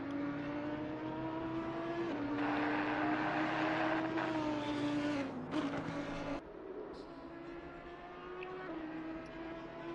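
Audi R8 LMS Evo 2 GT3 race car in the ACC racing game at Laguna Seca, steady high engine drone rising through revs, then a brief shift and drop to a lower sustained tone, continuous and fairly close.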